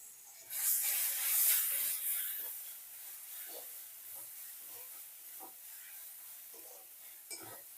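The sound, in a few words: ginger, garlic and onion paste sizzling in pan with spices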